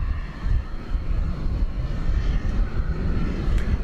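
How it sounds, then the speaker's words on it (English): A Boeing 767-300ER airliner during pushback at DFW Airport, heard as a steady low rumble of engines and airport machinery, continuous and fairly loud with no talking. "It's a pushback. It's a 767 flight 793 to Louisville."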